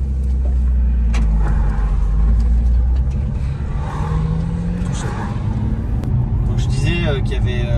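Nissan 350Z engine rumbling steadily up close as the car pulls away from a grassy roadside, with a continuous low drone throughout.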